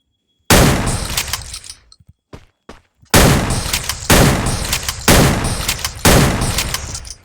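M590 pump-action shotgun firing in a video game, five loud booming blasts spaced roughly a second apart, each with a long reverberant tail, with a short gap of small clicks and handling noises after the first shot.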